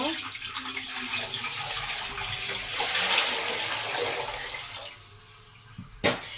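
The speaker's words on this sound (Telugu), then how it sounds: "ఇప్పుడైతే స్టవ్ వెలిగించేసుకొని ఇది వాటర్ పోసుకుంటున్నాను అనమాట" Water poured into a pot on a lit stove, a steady splashing gush that tapers off near the end, followed by a brief clatter.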